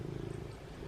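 A big, affectionate house cat purring close by, a low steady rumbling flutter that stays soft and continuous with no talking over it.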